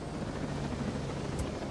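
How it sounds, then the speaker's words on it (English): Helicopter rotor and engine noise runs steadily through the whole short stretch, a dense low rumble with broadband wash, close and fairly loud with no speech. "Back away from the helicopter."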